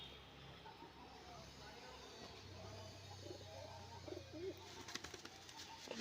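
A pet Madrasi pigeon kept at home coos in low, soft, drawn-out murmurs over a steady hiss of background noise, with a few brief rustles near the end.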